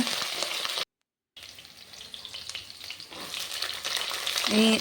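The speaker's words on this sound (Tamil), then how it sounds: "இப்போது பூண்டு சின்ன வெங்காயம் இது எல்லாமே நல்ல எண்ணெயில் வதங்கி வரணும்" Small onions and garlic fry in oil in a clay pot, a bright steady sizzle that cuts out for a moment and then returns, growing louder toward the end with a clink of utensil.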